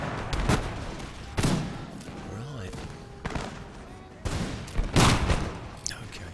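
Musket fire in Darthmod Empire: Total War erupts in scattered bursts and irregular cracks of fire at will, loud and close, with quieter gaps and a brief tonal sweep in between.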